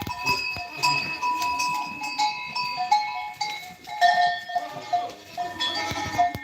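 Mountain goats bleat in short, repeated calls at moderate distance, with bells clinking intermittently among the herd outdoors.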